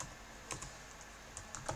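A few soft keystrokes tap on a computer keyboard while a command is entered, quiet and close in a small cluster of clicks.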